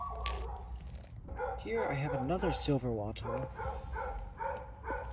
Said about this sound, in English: And the dog gets lonely and barks.